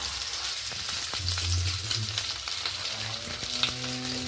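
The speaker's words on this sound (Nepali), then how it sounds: "यो मासुलाई मैले फ्राई गरे गर्दैछु" Buffalo meat frying in a pan for a Bhutanese dish, a close, steady sizzle with occasional crackles and pops throughout, no talking.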